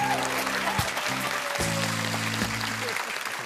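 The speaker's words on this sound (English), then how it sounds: "give a round of applause for our amazing guests" Studio audience applause for the guests on a British comedy panel show: steady clapping with a tonal music sting playing over it.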